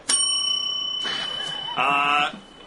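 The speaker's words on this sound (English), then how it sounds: "I ring a bell and we talk about something else" A bright bell rings out as a transition signal in a conversation show, several clear metallic strikes with a sustained ringing tone that lingers and then cuts off, loud and close with no speech over it.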